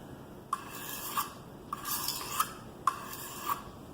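A kitchen knife drawn across a coarse sharpening stone in three steady strokes, each a gritty, close rasp with a faint metallic ring, evenly spaced over a quiet background.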